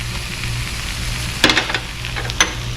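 Seasoned food, salted and sprinkled with coarse black pepper and granulated garlic, frying in a pan: a steady soft sizzle with a couple of brief scraping or stirring clicks.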